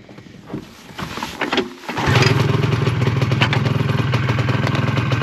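Two-stroke snowmobile engine turning over and firing up outdoors in snow, a brief sputtering start that settles into a loud, steady buzzing run close by.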